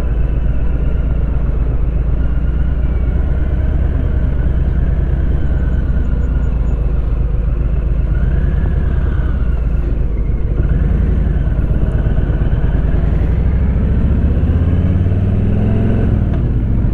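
A Harley motorcycle engine drones steadily while riding, a loud continuous low rumble with wind noise and slight pitch rises toward the end, with no talk over it.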